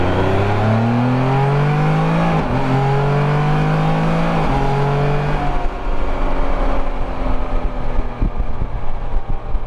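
A 2021 Can-Am Spyder RT Limited three-wheeler accelerates hard at full throttle, its engine note climbing and dropping through several gear shifts, loud and close with heavy wind buffeting.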